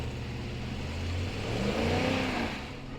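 A car stuck at a beach revs its engine with the front wheels not spinning, a steady close engine drone that climbs in pitch and loudness toward the middle before easing slightly.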